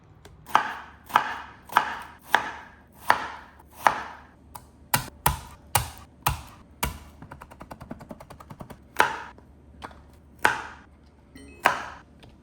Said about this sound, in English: We're just gonna make thin slices.